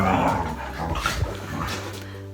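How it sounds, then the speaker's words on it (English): A pet dog play-growls up close, a low rumbling growl with small yips and whines that rises and falls over a couple of seconds. "That's Play growling, by the way."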